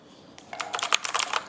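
Typing on an MKA2C gaming keyboard with blue switches: quick, bright clicky keystrokes in a fast irregular run, close and crisp, with no talking.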